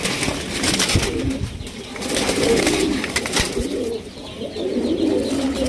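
Red checker racer pigeons coo repeatedly nearby, soft throaty warbles recurring over a constant background of rustling and fluttering.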